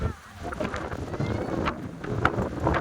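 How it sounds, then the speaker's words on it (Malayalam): Steady sea wind buffeting the microphone on the beach at Dhanushkodi, Rameswaram, Tamil Nadu, a broad rushing roar with gusty swells mixed with distant waves on the shore. "ആഹാ നല്ല മനോഹരമായ കാറ്റ്"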